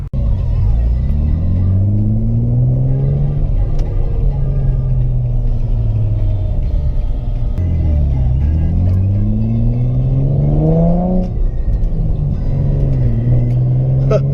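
A Nissan 350Z on a test drive after clutch work, its engine droning loud and close from inside the cabin, rising and falling through several gear changes with repeated revving sweeps.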